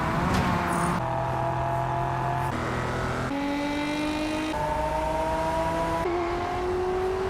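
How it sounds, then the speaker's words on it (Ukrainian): A racing car engine in the video game Test Drive Unlimited Solar Crown roars continuously, its pitch climbing through each gear and dropping at every shift, with a rasping exhaust note throughout. "порівняв, як звучать їхні двигуни і вихлопні труби зі справжніми аналогами"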